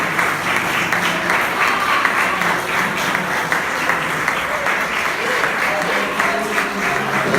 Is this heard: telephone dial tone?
no